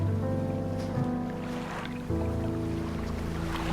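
A fishing boat's engine drones steadily at sea in the video game Dredge, a low humming tone with water sloshing around the hull, continuous and fairly loud with a brief dip partway through.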